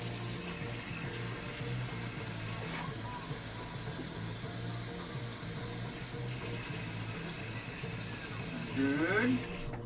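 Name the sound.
water from a tap added for instant ramen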